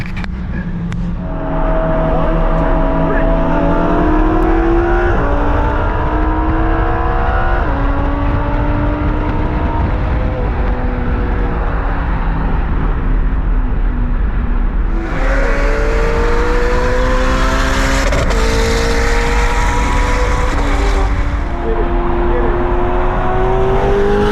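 A sports car engine revs hard and climbs through several gears, loud and close, each shift dropping the pitch before it rises again.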